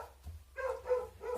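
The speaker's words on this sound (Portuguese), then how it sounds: "agora os cachorros vão acuar" Dogs bark in short, fairly faint bursts, three or four quick yaps heard from some distance, with no talking over them.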